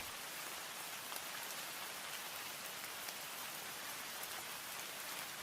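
Steady rain falls on surfaces in a dense, even hiss of countless drops, soft and continuous with no pauses or other sounds.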